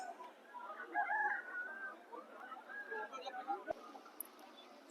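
Roosters for sale at a village market crow and cluck amid a busy crowd, the bird calls mixed into constant overlapping chatter and general market bustle.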